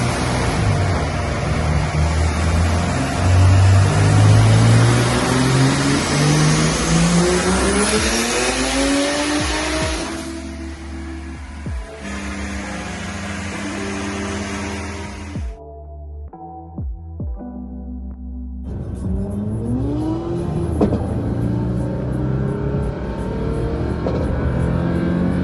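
A turbocharged BMW E30 on a stock head gasket with ARP studs and a cheap eBay turbo at 25 psi revs hard, its engine pitch sweeping up and down loudly, dropping out briefly mid-run before climbing again.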